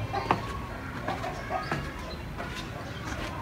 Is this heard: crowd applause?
no